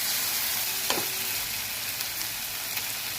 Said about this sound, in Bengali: এটা খুব করে কষতে হবে।